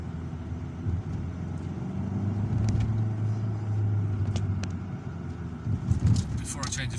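A Volvo S40 with a 1.6 HDi diesel engine accelerating in a steady burst, with a low engine drone that swells and surges toward the end, heard from inside the car.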